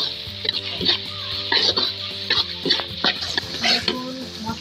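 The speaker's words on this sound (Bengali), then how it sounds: "এখন ভালো মতো মশলাটাকে কষিয়ে নিতে হবে অনেকক্ষণ না।" Spice powders of salt, turmeric and coriander are fried in oil and stirred, a bright sizzle with repeated spatula scrapes in uneven strokes; a steady hum and faint background voices sit underneath.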